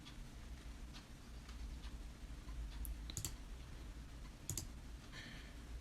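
A computer mouse clicks faintly a few times, sharp isolated taps spaced seconds apart over a low hum.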